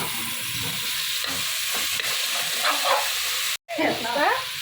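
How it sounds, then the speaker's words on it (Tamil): Green chilies and tomatoes sauté in a hot pan with steady sizzling and frying, stirred now and then, with a brief pause near the end before the sizzle resumes. "பச்சை மிளகாவா, தக்காளி இதை நல்லா வதக்கிக்கலாம்"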